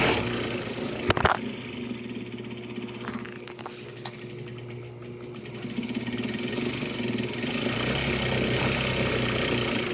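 A diesel car engine idles with a steady low rumble for several seconds, a couple of sharp clicks near the start, growing slightly louder toward the end.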